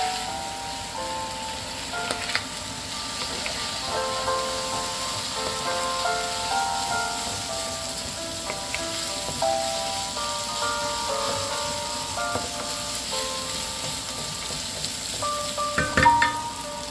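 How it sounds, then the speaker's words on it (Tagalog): Garlic, onion and ginger sautéing together in a pan for ginataang langka with pork, a continuous crackling sizzle like light rain, close and steady, with occasional stirring clatter. "sabay-sabay na rin itong igisa"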